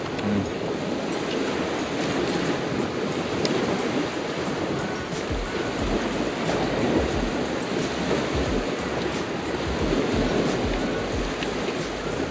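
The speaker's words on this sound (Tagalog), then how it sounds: "Ganda yung tubig. Maalon. Ganda pakinggan." Steady rushing surf of rough ocean waves washing continuously onto Baseco Beach, Manila, loud and close, with no talking.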